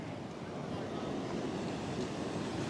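Sea waves rolling onto a sandy beach at high tide, a steady, loud broadband wash of surf with wind noise and no clear breaks between the breakers.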